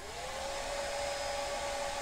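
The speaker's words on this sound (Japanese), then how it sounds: "ドライヤーで温めてやると結構簡単に取れます。 とりあえずまず温めてみます。" A hair dryer runs steadily to warm a strongly glued adhesive sticker, giving a constant close blowing whoosh with a thin motor whine, with no speech over it.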